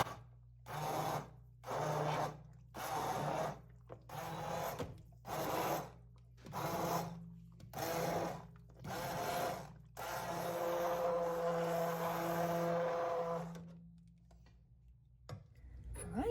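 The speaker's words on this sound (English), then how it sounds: "we're gonna try our immersion blender in here" An immersion blender purees potatoes in a pot of leek and potato soup, first in short repeated whirring bursts with pauses between, then in one longer continuous run that fades out.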